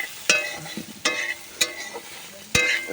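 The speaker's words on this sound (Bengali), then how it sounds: "ভালো করে নেড়ে নিতে হবে সয়াবিন বড়ি" Soy chunks being stirred while frying in a pan: four distinct scraping strokes of the spatula, spaced unevenly and close by, over a soft continuous sizzle.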